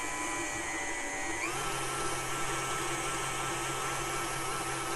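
An electric mixer beats sugar cookie frosting made with powdered sugar and milk, running at high speed in a steady, loud whir that shifts pitch as the speed rises, with no talking.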